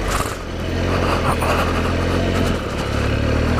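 Triumph Explorer XCa adventure motorcycle on knobbly tyres riding a forest trail, its engine a loud continuous roar with wind buffeting and a rider talking.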